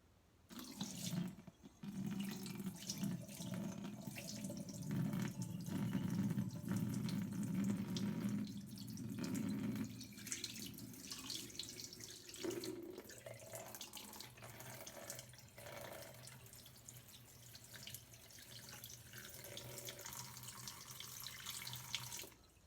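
Paper pulp and water poured from a container into a home sink, a steady rushing splash of water running for several seconds, then easing into quieter trickling and dripping, close and continuous with no talking.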